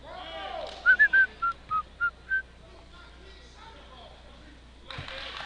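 A referee's whistle at a Sports Science vs Duncanville basketball game blows in a quick run of about seven short, sharp blasts, loud over the crowd murmur of the gym, followed by a burst of noise.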